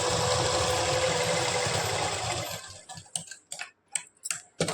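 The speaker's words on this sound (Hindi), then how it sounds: "इस तरह से आप इसमें एक सिलाई लगा लेंगे, ज़्यादा नहीं, फिलहाल आप थोड़ी सी लगाइए।" Domestic sewing machine stitching a salwar seam, a steady dense mechanical whir for the first few seconds, then stopping and giving way to short start-stop bursts of stitching.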